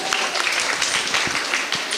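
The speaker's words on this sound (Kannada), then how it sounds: "ಹಾಗಾದ್ರೆ ಬರ್ಲಿಕ್ಕೆ ಜೋರಾದ ಕೈ ಚಪ್ಪಾಳೆ" Applause for a dance performance at a public Ganeshotsava celebration in Manjeshwar, a short burst of crowd clapping heard at moderate distance.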